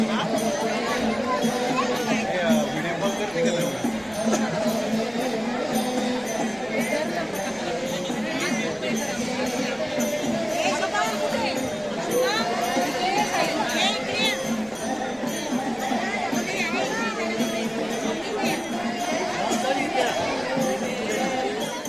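A dense crowd packs the Mahalakshmi temple in Kolhapur during the goddess's palanquin procession, with steady loud chatter and murmuring, faint tinkling bells and shuffling, continuous and close all around.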